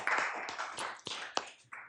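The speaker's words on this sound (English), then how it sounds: "I feel like we should clap again" Several people applaud briefly at a council meeting, a short scattered burst of claps that comes and goes over a couple of seconds in a quiet room.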